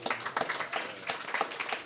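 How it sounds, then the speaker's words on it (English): An audience at a panel discussion claps in a brief burst of applause, a steady patter of many hands at moderate distance. "And another round of applause for our moderator, Avon."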